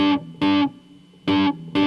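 Electric guitar riff from a PRS Custom 50 on the lead channel, dry with no echo: distorted, sustained chords struck in short bursts with clear gaps between them, loud and close.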